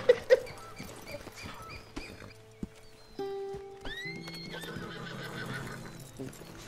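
A horse gives two sharp neighs at the start, followed by scattered hoof clops amid a cowboy scene, with music-like tones and other sounds layered over the rest.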